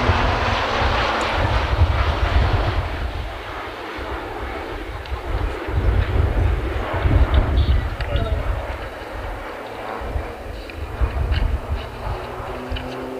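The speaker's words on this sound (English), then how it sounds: "setting up for the tee to box, loop and fly past" Roulettes aerobatic team aircraft flying in formation through a T shape, box and loop, a loud sustained propeller-engine roar that swells and ebbs as they pass overhead.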